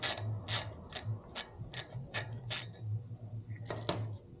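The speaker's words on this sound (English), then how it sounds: "I'm going to first finish taking off the screws right here" A ratcheting tool works at the screws on a Porsche 992 Carrera S front brake, a run of crisp, evenly spaced clicks close by, pausing briefly before two more clicks.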